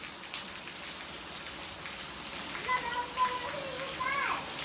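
Heavy rain falls steadily on surfaces, a dense, continuous hiss heard close throughout, while children's voices chatter and call faintly in the background.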